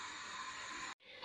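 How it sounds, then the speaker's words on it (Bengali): Chili hits hot oil in a kadai with a loud, steady sizzling hiss close by, which cuts out abruptly for a split second before the frying resumes. "কড়াইতে তেল দিয়ে দিয়েছি এখন আমি চিলি দিয়ে দিব"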